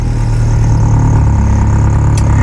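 An Acura Integra GSR engine runs roughly just after a bump start on eBay fuel injectors, a loud close steady idle with a low throbbing hum and no voices.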